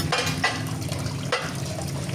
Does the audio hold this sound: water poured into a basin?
yes